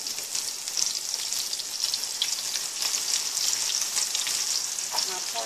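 Pork chops sizzling and frying in hot oil, a steady, bright crackling hiss with small pops that holds at an even level throughout, with no talking.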